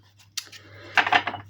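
Scissors snip through paper to cut out stamped watercolour flower shapes, a few crisp close snips with a quick cluster of cuts near the end, no voice.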